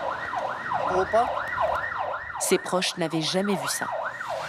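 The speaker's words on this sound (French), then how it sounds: "L'ambulance se faufile dans les ruelles de Paraisópolis, la plus grande favela de la ville, jusqu'à la maison de la patiente." An ambulance siren wails loud and close in the narrow alleys of Paraisópolis, a large favela in Brazil, its rising and falling tone running steadily while a person talks briefly over it.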